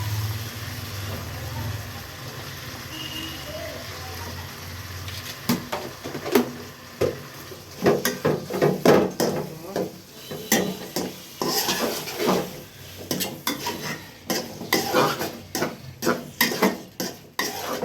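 Chopped onion and garlic paste being sautéed in a pan: a quiet start, then from about five seconds a run of close, sharp scraping and clanking strokes against the pan over a low steady sizzle.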